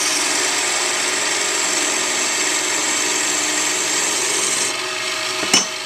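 Wood turned on a 7x10 mini lathe with a homemade pipe tool, a loud continuous scraping and whirring that drops off near the end, followed by a short sharp knock.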